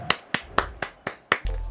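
Six sharp claps spaced evenly about a quarter second apart, crisp and fairly close, with a low rumble starting right at the end.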